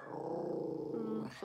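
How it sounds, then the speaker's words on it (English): A dog growls steadily and close for about a second and a half, a low continuous rumble that rises into a brief sharper snarl at the end, with no talking over it. "Before he starts barking like a mad dog"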